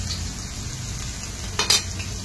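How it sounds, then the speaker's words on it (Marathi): Steady, soft sizzling of mandeli fish frying on a hot griddle, with a brief louder hiss or scrape near the end. "इथे बघा मांदेली आपली फ्राय होतच आहे"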